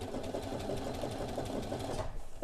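A home sewing machine runs a straight stitch on garment fabric, a steady, fast rhythmic whirring chug that is close and continuous, then eases off near the end.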